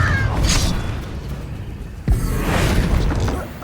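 Confringo blasting spell explosions in the Hogwarts Legacy video game, two booming blasts with whooshing bursts, the second sharper and louder, amid ongoing combat sounds and voices.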